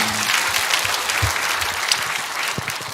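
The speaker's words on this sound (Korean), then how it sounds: "박수하겠습니다." An audience claps through the end of an interview talk, a dense wash of applause with a few sharper slaps and a brief murmur near the start.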